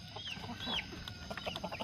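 Several roosters cluck and squawk nearby in short, uneven bursts, with a few rising calls overlapping.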